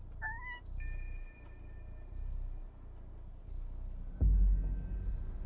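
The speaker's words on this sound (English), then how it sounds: "He's purring. He's purring." A cat purrs in the video game Stray, a low continuous rumble that runs steadily throughout, with a brief meow-like chirp near the start, soft game chimes and ambience over it, and a louder thump late on.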